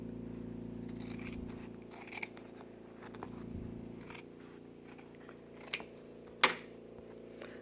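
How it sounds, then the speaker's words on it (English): Scissors snip through fabric close up, a series of soft crunchy cuts with a few sharper clicks and scrapes, quiet overall with no voices. "we're just going to cut some off the bottom"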